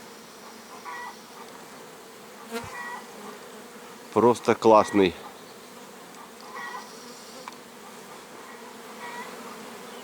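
Honeybees buzz steadily at low level throughout at an apiary at midday, with a brief closer burst of buzzing in the middle and a short spoken remark.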